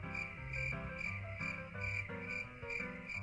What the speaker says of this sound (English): Crickets. Absolutely nothing.